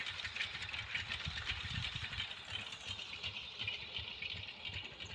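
An engine-driven pump runs steadily, drawing canal water into a chickpea field, its mid-pitched idle hum continuous and close alongside a hiss of flowing water, with no talking.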